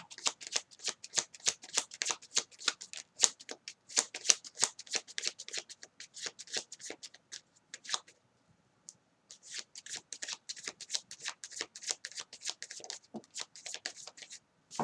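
Tarot cards shuffled by hand during a reading, rapid bursts of crisp riffling flutters in an uneven rhythm, close and clear, with a brief pause near the middle before shuffling resumes, no talking.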